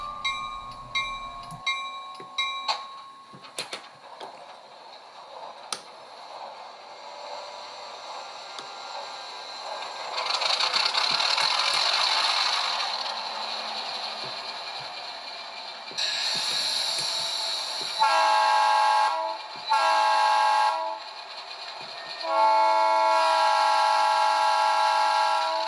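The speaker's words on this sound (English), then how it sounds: "the following clip contains U25C sounds from a TCS decoder and not the F40PH sounds from the factory ESU decoder" An HO scale model U25C diesel locomotive sound decoder played through small phone speakers: a horn and bell blasts at first, then a steady engine rumble that rises and drops in a few distinct stages, clear and close, with no voices.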